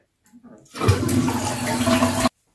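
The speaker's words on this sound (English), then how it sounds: "So let's flush it and fill it up again." A toilet flushes loudly up close, a rushing swirl of water that holds steady for about a second and a half and then cuts off abruptly, with a few faint handling noises just before it.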